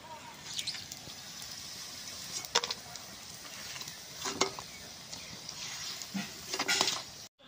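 Bora fritters fry in hot oil in a village kitchen, a soft continuous sizzle with occasional stirring scrapes and clinks, fairly close and moderate in level.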